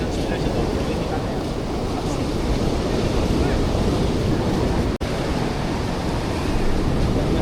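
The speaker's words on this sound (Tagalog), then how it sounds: "Ang laki talaga ng alon." Large ocean waves surge at Copacabana beach in Rio de Janeiro, Brazil, as a steady, loud roar of surf mixed with wind buffeting the microphone, with a brief dropout near the end.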